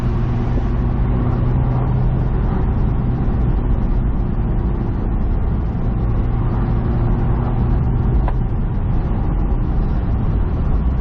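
Steady engine drone and rushing wind from a 2007 Honda S2000 at high speed, continuous and loud throughout, no voices.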